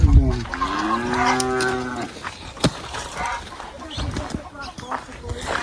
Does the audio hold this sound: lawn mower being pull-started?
no